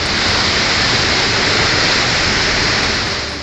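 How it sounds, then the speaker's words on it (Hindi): Floodwater rushes hard and loud through the market streets of Gopeshwar after torrential rain, a dense continuous roar with no pauses and no voices. "पूरे बाजार में बहुत रफ्तार के साथ पानी घुस आया।"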